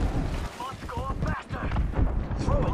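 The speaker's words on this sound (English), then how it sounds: "Let's grenade the shit out of the building." A grenade goes off in a video game shootout with heavy booming blasts and rumbling gunfire, while people talk loudly over the noise.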